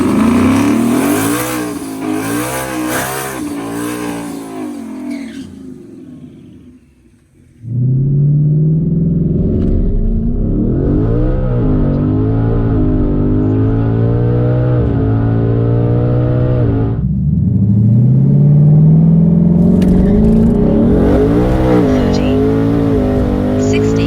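A 2020 twin-turbo Mustang idles and then launches hard at a dragstrip, its engine roaring loudly as it climbs through the revs, easing briefly at a shift, then pulling on again, heard close from inside the car.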